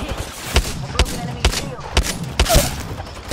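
Rapid bursts of gunfire in an Apex Legends firefight, several sharp loud shots spaced about half a second apart over a low rumbling game background.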